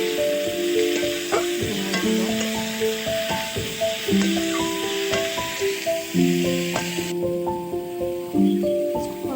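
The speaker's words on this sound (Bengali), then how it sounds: "কিছুক্ষণ ভাজবো আমি কিছুক্ষণ" Figs and prawns fry in a pan with a steady sizzle and repeated scrapes and clinks of a spatula stirring, while clear tonal sounds ring over the frying throughout.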